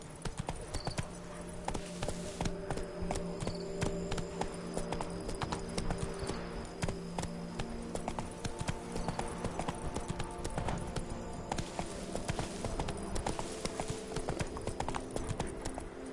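Horse hooves clip-clop steadily in a PS4 video game, a continuous brisk run of hoofbeats, loud and close, with no talk over them.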